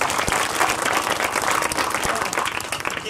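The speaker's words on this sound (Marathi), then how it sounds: "मी टाळ्या वाजवायला वाजवा जोरात" Audience at a kirtan gathering during a village saptah in Arangaon clapping loudly, a dense continuous burst of applause from many hands with a few sharper individual claps standing out.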